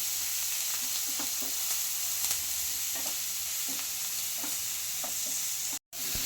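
Garlic and onion frying in a pan, a constant crackling sizzle with light clicks of a spoon stirring now and then, close and steady, with a brief dropout near the end.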